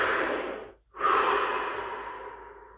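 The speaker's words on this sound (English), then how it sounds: "Another deep breath." A deep breath during a guided relaxation exercise: a long audible inhale, a brief pause, then a slow, gradually fading exhale, close and clear with no talking.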